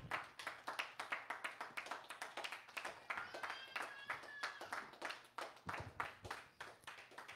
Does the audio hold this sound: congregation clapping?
yes